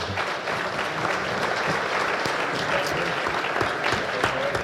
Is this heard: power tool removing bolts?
no